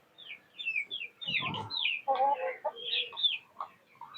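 Backyard chickens clucking and chirping close by, a quick run of high overlapping calls with a few lower grunting clucks mixed in, no voices present.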